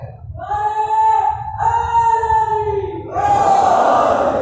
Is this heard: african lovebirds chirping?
no